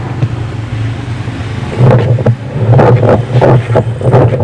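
A loud mechanical grinding rumble with rhythmic knocking surges from a faulty Sharp washing machine gearbox being turned, close up and without speech.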